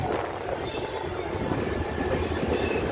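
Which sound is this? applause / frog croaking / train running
train running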